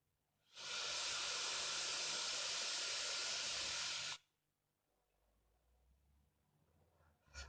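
Steady, loud hiss of vapor being drawn through a Wotofo Serpent BF atomizer running dual coils, one continuous puff lasting about three and a half seconds, then quiet with a faint low rumble.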